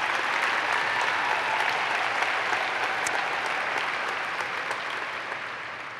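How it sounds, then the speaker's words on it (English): An audience at a lifetime achievement award ceremony applauds in a steady, dense wash of clapping that holds evenly for several seconds and eases slightly toward the end. "Oh, just clap away."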